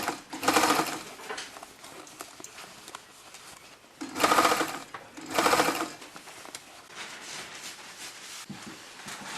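A sewing machine stitches a tuck right along the fold edge of an unlined shirt-jacket, running in several bursts of rapid, close mechanical whirring with pauses between.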